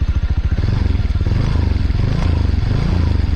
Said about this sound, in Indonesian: ini hasil kalau knalpot standarnya digeber-geber